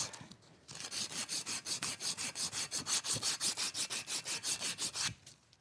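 Aluminum steerer tube insert being scuffed with abrasive before gluing, a rapid, steady back-and-forth rasping of about twenty strokes, close and moderately loud.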